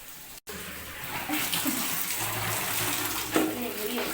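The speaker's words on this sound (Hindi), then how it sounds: "तो चलिए अब मैं यहाँ पर मैंने पानी भर लेते हैं" Tap water running steadily into a container, filling it for household cleaning, with a brief cut near the start and a continuous broadband gush throughout.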